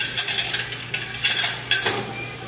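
Sardine kilawen, an Ilocano raw fish dish, being stirred in a bowl, with repeated scraping and clinking of a utensil against the bowl in short irregular bursts, close and fairly loud, with no talking.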